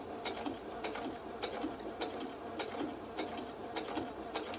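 Sewing machine stitching slowly through boned 18th-century stays made from recycled cloth, a close, steady mechanical whir with regular clacking needle strikes repeating at an even pace.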